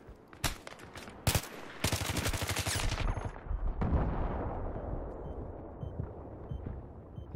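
Light machine gun fire in an online shooter game: a few single loud cracks, then a rapid sustained burst of shots, followed by a booming impact that tails off into fading rumble.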